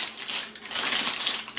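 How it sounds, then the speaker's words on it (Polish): A moist gingerbread cake lifted out of its baking tin by its lining paper, giving two bursts of close, crisp paper crinkling and rustling, with no talking. "wyciągam z foremki po prostu za papier"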